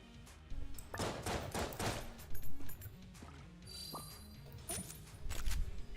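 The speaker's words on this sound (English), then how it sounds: "Trash cannon's fun. You just kind of shoot garbage." Trash cannon blasts from Enter the Gungeon, a game gun that fires garbage, thudding in a quick burst of heavy impacts followed by scattered crunches and shots under game sounds.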